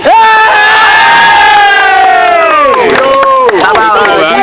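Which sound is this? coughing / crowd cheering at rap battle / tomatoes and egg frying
crowd cheering at rap battle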